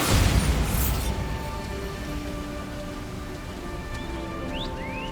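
Bombarda blasting spell cast in the video game Hogwarts Legacy, a loud booming burst up front that rolls into a long rumbling, debris-like wash with game tones layered over it.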